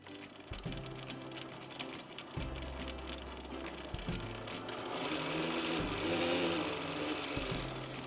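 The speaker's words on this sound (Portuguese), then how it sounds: "a tela de touch da máquina já vai informar que ela está enchendo bobina" An SS 2599 sewing machine runs steadily while winding its bobbin, a continuous close mechanical whir with regular clicking thumps that grows slightly louder toward the end.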